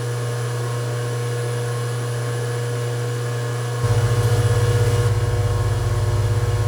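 A metal lathe turns a carriage stop spindle during thread cutting, a steady machine hum with constant motor whine that grows louder and rougher partway through as the cut engages, continuous and close with no talking.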